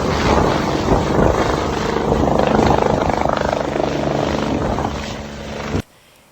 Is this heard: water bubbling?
no